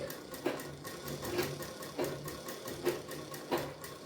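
A domestic sewing machine stitches fabric during a home tailoring lesson, running in short bursts with a rhythmic mechanical whir and regular clicks, close and alone.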